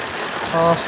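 Rain pours onto a flooded street in Dhaka, making a steady, close, broadband hiss of water throughout, with a brief tonal sound rising over it near the end.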